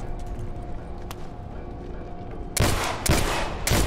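Video game gunfire in The Last of Us: Left Behind, with a few loud close bursts of shots cutting in over a low ambient rumble toward the end.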